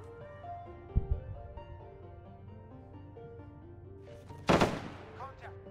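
Two sharp gunshots ring out in a military video game, one near the start and a louder blast with echoing tail later, over a steady tonal game soundtrack.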